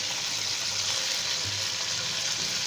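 Chicken with yogurt, red chilli powder and turmeric frying in a pot for a spicy pulao, a loud, steady, close sizzle with no pause.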